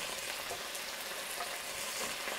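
Chicken and carrots stir-frying for a bird's nest chicken dish in a hot pan, giving a continuous dense sizzle and crackle at a steady moderate level, with no talking.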